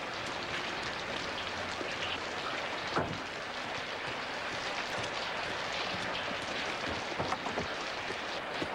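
Dense, steady rain hisses across everything, with occasional heavier drops and splashes standing out.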